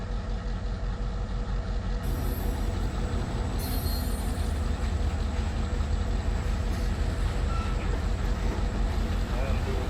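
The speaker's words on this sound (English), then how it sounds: "train 502T pushes the remainder of the consist west to Monserrat" Model train pushing a consist of freight cars along a layout, a steady continuous rumble of wheels and motor with faint squeals, a voice speaking over it throughout.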